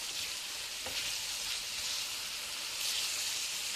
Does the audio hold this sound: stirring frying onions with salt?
yes